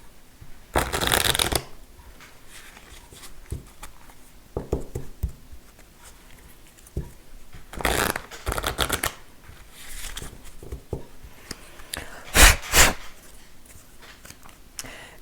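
Tarot cards being shuffled by hand during a reading, heard as several distinct bursts of riffling and flicking separated by quieter pauses, close and clear with no talking.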